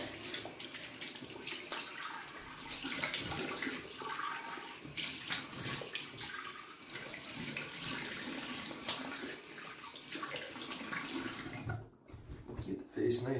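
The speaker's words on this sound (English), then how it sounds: "Get the cold water going here." Cold water runs steadily from a tap into a sink, a continuous close splashing rush that fills the whole stretch while a person talks over it.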